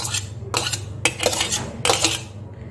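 Chopped onion, carrot and cucumber are tipped into a bowl for a sandwich filling, several close clattering bursts of utensil against dish in an uneven rhythm.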